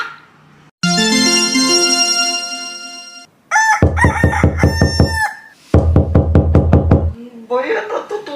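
Two bursts of rapid, loud knocking on a door, each a quick run of sharp raps, follow a rooster's crowing and precede a brief voice at the end.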